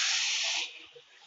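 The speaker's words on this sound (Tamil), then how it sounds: "தண்ணி எல்லாம் நல்லா ஊத்திடுவோம்." Water pours into a pan of nethili (anchovy) fish gravy, giving a loud, steady hiss for about half a second before it fades to a quieter trickle. No one speaks.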